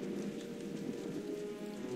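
Steady, dense rain hisses during a storm in Jurassic Park: The Game, an unbroken wash of patter with no voices over it.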